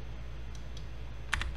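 A computer mouse clicks during 3D modeling work: a quick pair of faint, sharp clicks near the end, after a stretch of low electrical hum.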